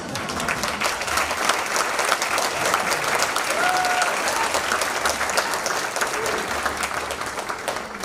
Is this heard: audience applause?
yes